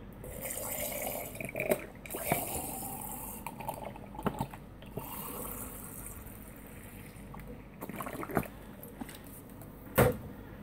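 Water poured into a drinking jar to mix ration powder, an uneven trickling and splashing with a few knocks and clunks, close by and moderately loud, with no talking.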